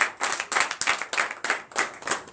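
A church congregation at a night service of deliverance and prophecy claps in a steady rhythm of about eight loud, even beats, close and filling the room, with no talk over it.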